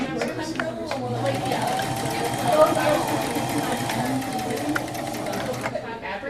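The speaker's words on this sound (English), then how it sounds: "to sew, you just step on the pedal" A sewing machine running a basic stitch, with a steady mechanical whir and rapid needle chatter held close for several seconds, while someone talks over it.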